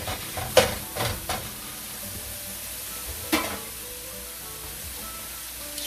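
Shrimp sautéed in garlic butter in a pan, a steady soft sizzle broken by a few loud clattering stirs near the start and one more partway through.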